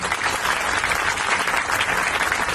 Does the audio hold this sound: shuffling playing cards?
no